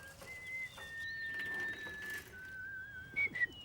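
A soft whistled tune imitating a blackbird, sliding, birdlike notes rising and falling, ending with a couple of brief chirpy accents; fairly faint and close.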